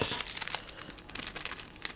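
Close, continuous crinkling of thin plastic, with brittle crackles and small pops as it is handled.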